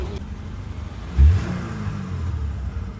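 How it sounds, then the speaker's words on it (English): A salvaged, previously wrecked Subaru engine runs at a low steady idle, then gives one short rev that swells and settles back to a rough, rumbling idle close by. "motor sound good."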